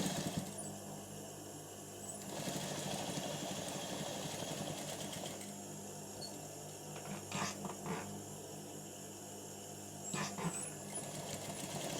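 Sewing machine stitching a trouser pocket flap, quiet rapid mechanical whirring in two bursts with a brief stop between them and light clicks when it halts.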